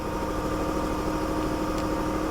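A Mercedes GLE 450 with a lift kit, check engine light on and a flat tire, idles steadily after starting, a continuous even hum with faint mechanical ticking and no voices.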